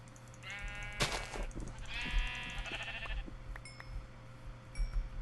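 Sheep in the video game Minecraft bleat in a few wavering calls spaced over several seconds, moderately loud over a steady low background hum.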